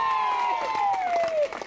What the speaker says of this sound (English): a big round of applause for Sally.